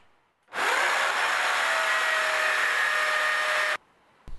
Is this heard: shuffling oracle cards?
no